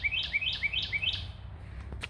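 Songbirds in a botanical garden in Orlando give a quick run of about five bright, rising chirps in a steady rhythm, then go quiet. The calls are close and clear over soft outdoor background noise.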